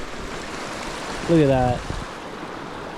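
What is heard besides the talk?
glacier meltwater stream flowing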